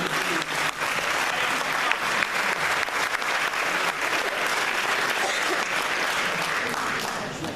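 Steady, dense applause from a hall audience at a New Year's civic greetings ceremony in Coutras, France, filling the whole stretch at even loudness with no break.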